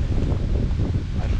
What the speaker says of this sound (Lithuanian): Aišku, yra vėjas pakilęs.